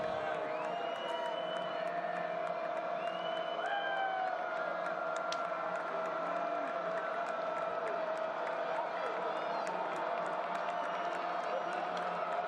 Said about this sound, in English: Eagles defense trying to pump up this crowd inside Paulson Stadium.